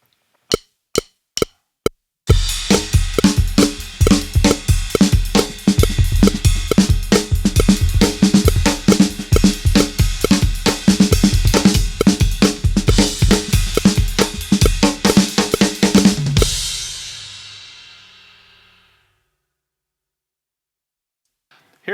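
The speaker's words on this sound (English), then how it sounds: "he's really just embellishing the main groove itself, and it's up on the ride cymbal." Rock drum groove played on the ride cymbal with kick and snare, a fast, busy rhythm of bright repeated hits that opens with a few count-in clicks and then rings out to silence.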